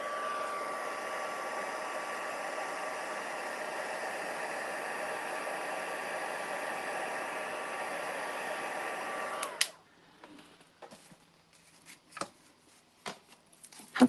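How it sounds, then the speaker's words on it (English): A heat tool blows steadily for about nine seconds while melting black and white embossing powder on a card, then cuts off abruptly, leaving a few faint clicks and handling taps in near silence. "So I'm just going to make sure that that's all heat embossed."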